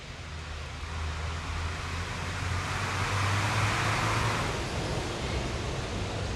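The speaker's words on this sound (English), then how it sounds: "There's a car coming." A car passes on a road in a broad, steady wash of noise that swells gently toward the middle and eases off, heard alone with no talking.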